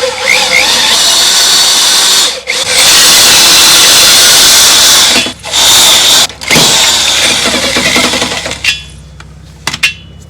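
An improvised drill press, a hand drill levered down with a crowbar, bores a hole through a lawn mower's metal frame piece, a loud close whine running in bursts with short pauses.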